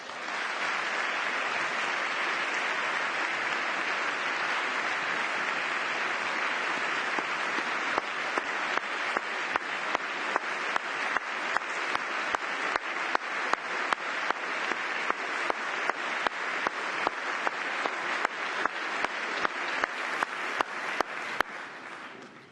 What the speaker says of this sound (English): Okay, I pointed out that applause break was quite long.